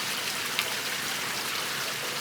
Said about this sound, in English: Just a slow, steady rain that hopefully will soak into the ground.